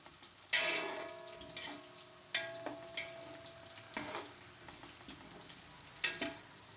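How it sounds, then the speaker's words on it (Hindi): Cumin seeds fry in hot ghee with a quiet sizzle, punctuated by faint ticks and clinks of stirring in the pan. "ज़ीरा ऐड कर दूँगी और 1 से 2 मिनट के लिए इसे घी में भून लेंगे"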